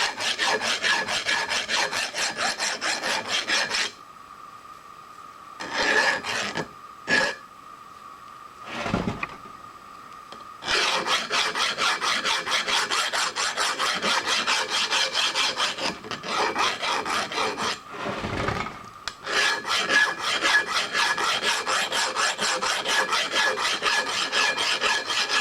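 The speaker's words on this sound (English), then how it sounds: "So a little file work just to kind of keep anybody from getting cut." A hand file rasps along the sharp edges of bent sheet metal in long, loud, continuous strokes. The strokes come in extended runs broken by short pauses and brief bursts.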